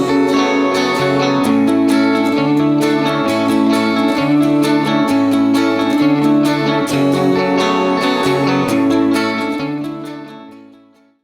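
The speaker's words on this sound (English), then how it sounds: "I want to give you an idea of what the 4 parts sound like when they're mixed together" Four layered guitar parts from a chorus in a rough mix, dense strummed chords driving steadily and loudly, then fading out at the end with no voices.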